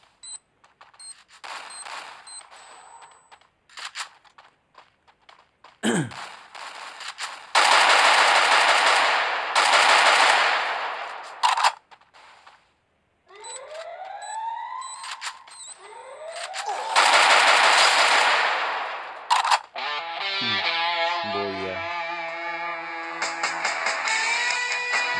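Gunfire in the battle royale game Free Fire: long, loud automatic bursts separated by quieter gaps, with game effects and jingles in between, no voices over the shooting.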